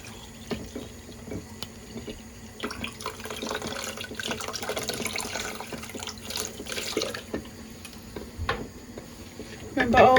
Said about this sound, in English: Give them a really good rinse to make sure there's no soapiness left on them.